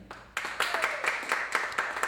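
Audience applause erupts at a show, a sustained wash of many hands clapping that builds quickly and holds steady at moderate loudness, with no talk over it.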